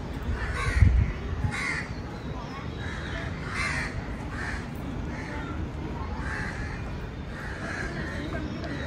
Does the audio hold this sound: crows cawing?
yes